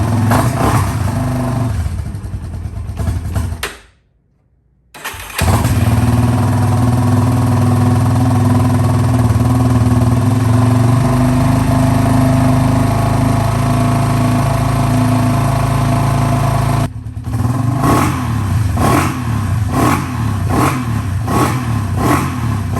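ATV engine with the choke on, cranking briefly then catching and running loud and steady at a rough idle, with a short cutout and restart partway through and uneven pulsing near the end.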